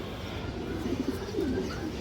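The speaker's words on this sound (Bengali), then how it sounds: "আমার অনেক চঞ্চল কবুতরটা" Pigeons coo softly at close range in a couple of low, throaty bursts over a faint background hum.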